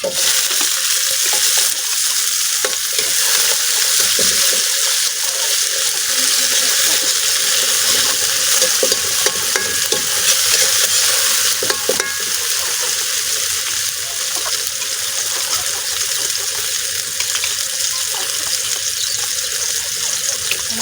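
Tomatoes sautéed in a pan for a mung bean stew give a loud, steady sizzle with scraping stir sounds throughout, on a rainy day in a home kitchen.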